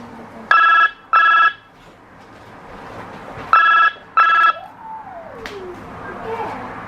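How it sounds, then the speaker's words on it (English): A telephone rings in two paired bursts, loud and near, separated by a quiet room with a brief faint squeal. "Let me get the phone, James."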